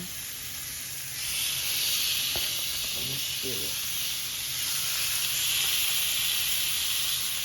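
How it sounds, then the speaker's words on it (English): Seasoned salmon pieces sear in a cast iron skillet lightly sprayed with oil over medium-high heat, a steady loud sizzle and hiss that jumps up as the fish goes in and holds through the clip, with faint handling clatter. "I'm gonna go ahead and put our salmon pieces, season side down"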